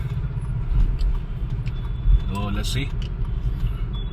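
A car being driven during a driving test gives a low, steady engine rumble from inside the vehicle while people talk over it.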